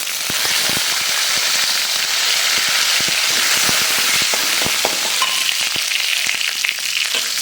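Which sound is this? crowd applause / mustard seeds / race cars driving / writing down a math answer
mustard seeds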